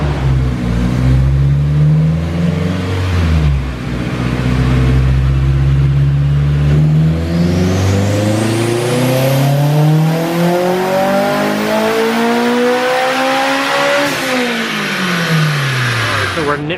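An all-wheel-drive turbocharged car on a dyno, fitted with a small GTX 3071R turbo, revs loudly in a long pull, its engine tone climbing steadily before dropping off near the end, with a voice talking under the roar.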